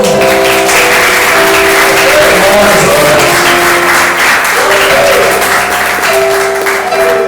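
A church congregation applauds loudly during a worship service, a dense, continuous wash of clapping over sustained musical tones that run through the whole stretch.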